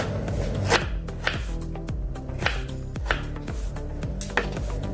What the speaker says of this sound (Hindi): अभी हम टमाटर को काटेंगे।